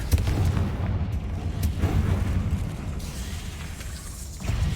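A booming Confringo blasting spell in the video game Hogwarts Legacy, producing heavy, rumbling low explosions and crackling impacts in a continuous dense burst of combat noise with no voices.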